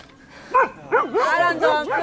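Vizsla puppies in a kennel let out a rapid series of high, wavering yips and whimpers, close and fairly loud, mixed with a human voice.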